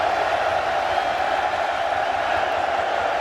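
A steady roar from a packed football stadium crowd at a 2021 Kentucky vs Missouri college game rises and holds, a dense, even wash of many voices with no break.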